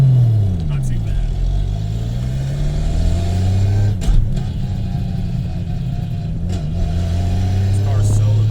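A 750HP straight-piped Nissan R32 Skyline GT-R with a sequential gearbox drones loudly from inside the cabin, its low engine note rising and falling with throttle, while occupants talk over it.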